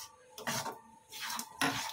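Coconut mixture with semolina being stirred in a pan for narkel naru, making a few separate bursts of soft scraping and clinking from the utensil against the pan; quiet and close, with no voices.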